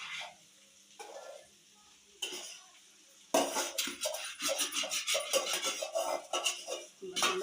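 Boiled basmati rice stirred into potatoes and carrots in a pan: a metal spoon scrapes and clatters against the pan, sparse at first, then in a dense, busy burst of clinks and rustles.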